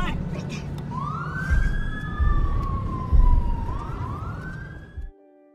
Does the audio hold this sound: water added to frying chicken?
no